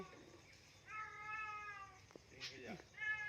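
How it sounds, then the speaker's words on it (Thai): Cat meowing nearby in a rural garden, several drawn-out wavering meows over a quiet background, with people talking softly around it. "เหมียวมันร้อง"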